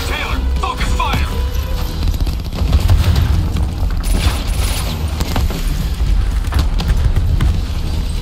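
Javelin missile explosions in Call of Duty: Black Ops 3, a dense, continuous barrage of deep booms and crashing blasts with rattling gunfire, loud and sustained throughout.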